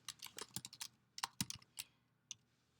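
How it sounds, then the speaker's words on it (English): Quick bursts of keystrokes clatter on a computer keyboard, close and fairly quiet, in uneven clusters separated by short pauses. "I'm going to type in whatever it is."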